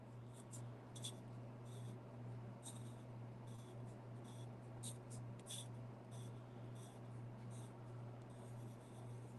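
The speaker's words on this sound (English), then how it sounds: "But I'm still going to write very lightly." Pencil writing lightly on watercolor paper, a string of soft, close scratchy strokes in short bursts over a steady low hum, with no talking during the writing.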